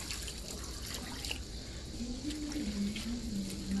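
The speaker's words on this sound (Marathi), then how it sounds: "एक दोन पाण्याने स्वच्छ भाजी धुवून व्यवस्थित निथळून घ्यायची आहे" Chopped vegetables are rinsed in water for a dal-rice dish, with a steady trickle and splashing close by, joined by a faint wavering tone.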